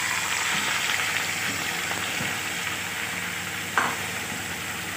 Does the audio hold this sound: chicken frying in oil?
yes